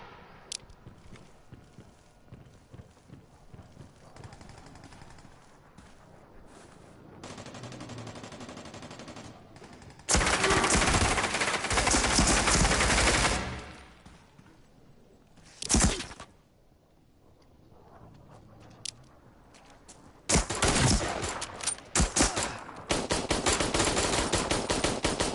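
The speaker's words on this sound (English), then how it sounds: "He's shooting right through that wood." Gunfire in a PS4 shooter video game, with shots punching through wooden cover, arriving in loud sustained automatic bursts separated by quieter stretches of movement and footsteps.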